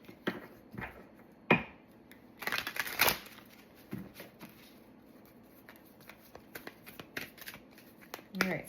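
Tarot cards are shuffled and drawn close by, with papery riffles, soft slaps and flicks in uneven bursts, mixed with faint background noise.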